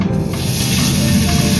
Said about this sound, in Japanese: 貝の実を焼きます。